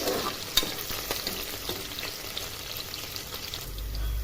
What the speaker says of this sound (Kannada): ಸ್ವಲ್ಪ ಎಣ್ಣೆಲೆ ಫ್ರೈ ಆಗಲಿ